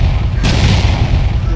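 A voice imitates an explosion with a loud, breathy, rumbling blast that holds its roar for over a second.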